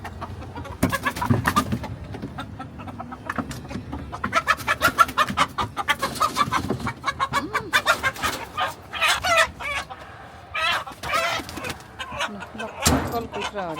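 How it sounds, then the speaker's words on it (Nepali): Local chickens cluck and squawk close by in a busy, irregular stream of sharp calls, with voices talking among them. "लोकल कुखुराहरू"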